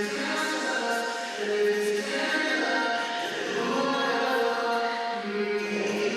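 Vocal sung through a long, bright, washy chamber reverb from Seventh Heaven Professional, a dense sustained wash of tone with smeared tails throughout, steady and moderately loud, no speech.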